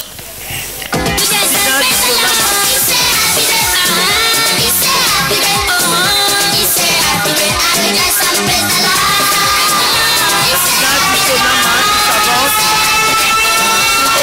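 Audience at an evening singing competition, Yekola 5, breaks into dense, steady applause and cheering that swells after a quiet first second and carries on loudly with music and crowd noise throughout.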